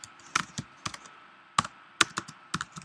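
Close computer keyboard typing during Python coding, with irregular, sparse clicky keystrokes and short pauses, recorded in a quiet room with no talking.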